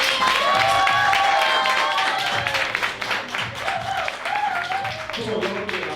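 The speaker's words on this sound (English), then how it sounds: "Y'all clap it up for Natalie Hall" An audience at a talk on politics and Black families applauds a guest speaker, a Fulton County commissioner, with loose clapping that fades as voices and talk come in over it.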